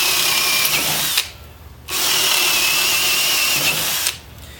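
A cordless drill on its higher speed setting whines at high speed in two long bursts, cutting off briefly between them and again near the end.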